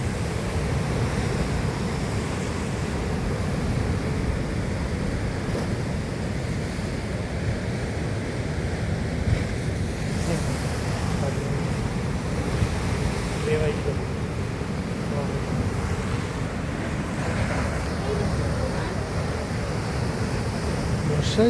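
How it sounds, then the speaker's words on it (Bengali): Turbulent monsoon sea at Kapu, Udupi, gives a continuous, heavy roar of surf mixed with buffeting wind noise, unbroken and fairly loud throughout. "এই সমুদ্রের এক ভয়ঙ্কর রূপ, এটা অন্য সময় পাওয়া যায় না, এই সময়ই শুধু দেখা যায়।"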